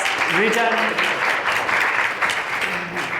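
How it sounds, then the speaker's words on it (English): Steady applause from a conference audience fills the room, many hands clapping at once with a brief voice speaking over it early on. "give him a round of applause"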